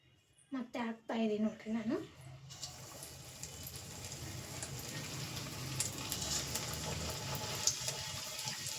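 Bajji frying slowly in oil over low heat, giving a continuous soft sizzle that grows slightly louder. A person speaks briefly before the sizzling begins.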